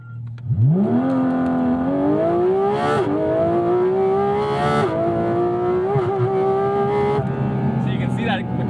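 Manthey Racing Porsche GT4 RS pulling hard from a standstill without launch control, its engine note climbing steadily through the gears with brief dips at each upshift, loud and close throughout.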